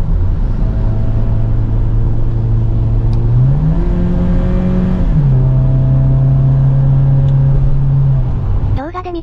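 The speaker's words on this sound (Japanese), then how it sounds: "ちょっと踏んでも全然応答なくて、あるタイミングから突然キックダウンして、エンジン音がバカでかくなるんだよな" Petrol engine of a Toyota HiAce Super GL van revving under acceleration, a loud steady drone that kicks down and climbs in pitch, then settles again before easing off at the end.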